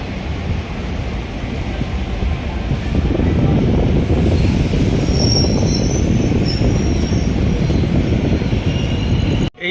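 The Balurghat Express passenger train rolls along steadily, heard from near an open door with a continuous clatter of wheels on rails and wind buffeting, and faint squeals overhead, before a sudden cut at the end.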